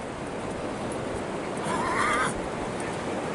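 A horse whinnies once on a beach in St. Johns County, a rising and falling cry over steady outdoor background noise and faint rushing surf.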